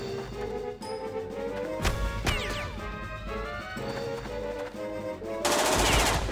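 Video game gunfire in Jagged Alliance 2 comes as rapid bursts and sharp cracks over layered game music and effects, ending in a loud noisy blast of shots.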